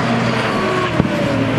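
GT2 race cars, including a McLaren and Maserati, drive on a circuit as a steady engine roar carries throughout, with a brief sharper burst near the middle.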